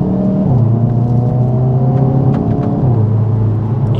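A 2021 Hyundai i30N with DCT gearbox pulls steadily, its engine note rising in pitch, dropping at each gear shift and climbing again, heard loud and close from inside the car with no talk.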